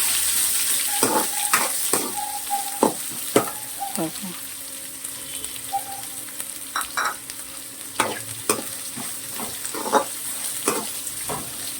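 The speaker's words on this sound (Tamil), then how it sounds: "இப்போ வெங்காயம் போடுவோம். வெங்காயம் கொஞ்சம் லேசாக போடணும்." Onions fry in a pan for an okra stir-fry, with a steady close sizzle. Repeated scraping and clinking stirs break through it at irregular intervals.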